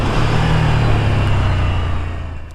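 A Ducati Desert Sled motorcycle's engine drones loudly and steadily while riding. The deep rumble stays even through the clip and fades a little at the end.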